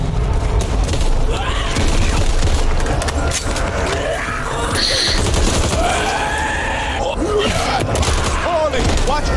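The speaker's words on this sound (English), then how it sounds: "watch where you're fucking firing" Rapid gunfire in a Back 4 Blood match, a dense, loud barrage of shots and booms with people talking over the chaos.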